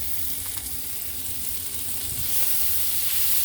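Onions frying in butter in a pan over a burner switched off, giving a steady close broadband sizzle and hiss that grows slightly louder toward the end, with no talking.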